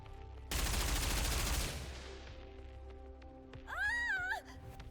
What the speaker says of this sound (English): An experimental suppression round developed for Anachiro.